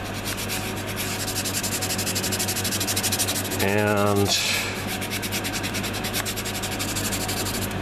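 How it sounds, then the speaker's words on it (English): A Tamiya sanding sponge rubs along a seam line on a Polar Lights 1/350 Klingon K'Tinga plastic model kit. The close, steady scratchy strokes repeat rapidly, with a brief change in the scraping midway through. "this seam line here, I am using this Tamiya sanding sponge"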